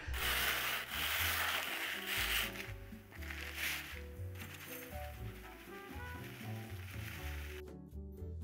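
Graham crackers are crushed into coarse crumbs for a key lime pie crust, making a continuous gritty rubbing and crunching over background music.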